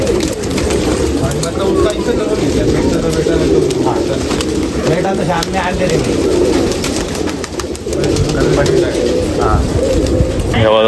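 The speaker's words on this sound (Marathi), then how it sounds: "कबूतर सगळे कबूतर वरती बसलेले" Pigeons cooing nearby in soft repeated throaty calls, mixed with a person speaking over them, the birds perched up high.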